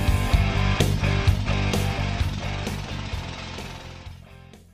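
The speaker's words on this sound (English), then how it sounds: "URETEK drills injection holes to begin the process of stabilizing the outlet structure" A heavy drill bores injection holes beneath a concrete outlet structure at the Addicks and Barker drainage control, a loud rapid hammering rumble that pounds steadily and gradually fades toward the end, with no talking.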